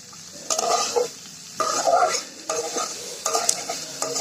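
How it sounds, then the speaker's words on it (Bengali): Cauliflower is stir-fried in a pan in several bursts of scraping spatula strokes against the pan over a low sizzle, close and fairly loud, with short pauses between strokes and no talking. "এখন ভাজি করতে যতটুকু সময় লাগে, আপনারা দেখতে পাচ্ছেন যে আমাদের ভাজি প্রায় শেষ পর্যায়ে চলে এসেছে"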